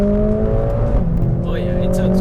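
A Mercedes-AMG A45 S car engine revs up and holds a strong, steady drone, loud and close, with a rising pitch sweep partway through.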